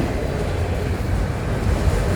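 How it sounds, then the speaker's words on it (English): A long FEC Railway freight train hauling trash cars rolls past close by, producing a steady, loud rumble and rattle of wheels on track that holds even throughout. "Oh my God, we got a big train today."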